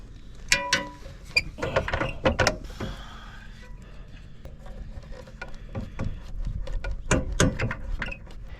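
Metallic clicks, clanks and ratcheting taps from an electric RV step mechanism as a clevis pin is worked out of the arm linkage, close and irregular, in short bursts.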